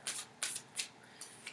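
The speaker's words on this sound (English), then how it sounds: "I always, always, always shuffle till I'm guided to stop." Tarot cards are shuffled by hand in several short, crisp riffling bursts with brief pauses between them, close and fairly quiet, with no talking.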